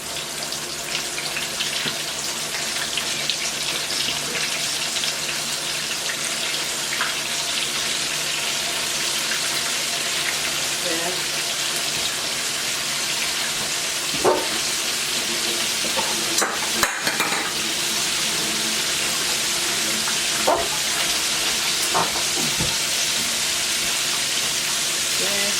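Buttermilk chicken deep frying in hot grease gives a loud, steady sizzle that hisses on without a break for over twenty seconds, with occasional louder pops and clatters and brief talk mixed in.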